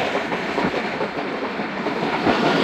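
A passenger train runs along the railway near Kisan station on the line toward Pattoki in the evening, giving a loud, continuous rumble of wheels on track with faint clickety-clack and no voices.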